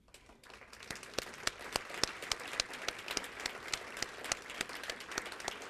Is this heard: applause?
yes